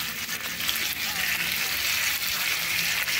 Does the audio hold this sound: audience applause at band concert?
no